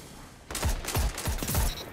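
Automatic gunfire in a video game shooter, with several rapid bursts of close, loud shots coming in quick succession over a couple of seconds, and no talk.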